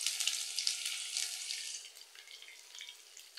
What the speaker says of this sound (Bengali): এখন আমি আগে পেঁয়াজ কুচি দিয়ে দিব।